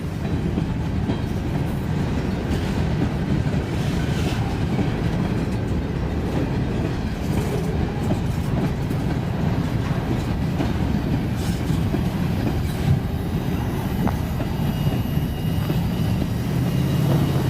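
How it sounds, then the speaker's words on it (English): Freight cars roll steadily past on the rails as a train moves by, with a continuous low rumble and faint clickety-clack of wheels, heard from trackside without talk. "Nice little train."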